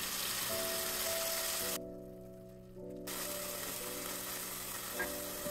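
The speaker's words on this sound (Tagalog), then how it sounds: "painitin ang kaunting mantika at igisa ang pino na tinadtad na bawang" Steady crackling sizzle of finely minced garlic frying in a little hot oil, close up, with a brief muffled dip in the middle before the sizzle returns.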